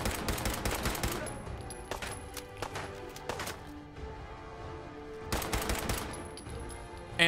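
Pipe pistol gunfire in the video game Fallout 4, with a series of sharp shots spaced irregularly across a busy game soundscape, a player talking over parts of it.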